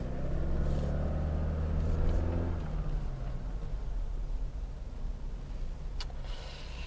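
A Toyota Fortuner 2.8 GR diesel engine pulling hard during a torque test, a loud close rumble at the start that eases into a steadier, quieter drone, with no talk over it.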